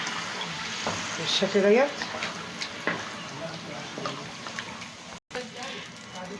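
Plain tap water pours into a pot of washed rice and vermicelli as a steady, close splashing stream, with someone talking over it.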